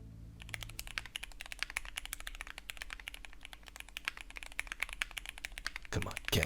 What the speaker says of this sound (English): At the very end of most keyboard videos, whether it be Squashy Boy or anyone else, they'll give a little demonstration kind of like this